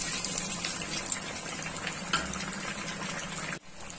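Bread pakoras fry in hot oil, a steady close sizzle and bubbling that runs throughout and drops briefly near the end, with no talk.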